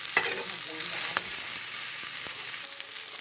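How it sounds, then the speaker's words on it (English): Turmeric-marinated chicken frying low and slow on a low burner in a pan, giving a steady, close hiss of sizzling oil with occasional crackles and faint stirring scrapes, with no talking. "we're cooking this on a low burner. Low and slow. I want it crispy, but we don't want it to burn."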